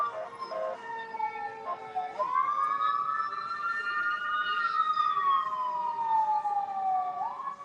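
An ambulance siren wails and sweeps in pitch, rising then falling as the vehicle passes, loud and continuous throughout with no talk over it.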